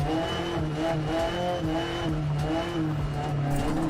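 A rally car in Dirt Rally 2.0 on the Monte Carlo stage drones under load with a steady engine note and shifting tire scrub, a continuous close and loud slide with no voice over it.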